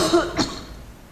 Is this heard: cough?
yes